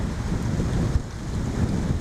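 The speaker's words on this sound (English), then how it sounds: "the wind started gusting above" Wind gusts steadily along an outdoor trail in Pennsylvania, a low, continuous buffeting rumble across the microphone with no voices.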